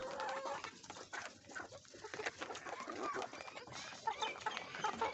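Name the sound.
hens eating soaked roti bread in backyard coop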